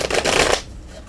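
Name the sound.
shuffling tarot cards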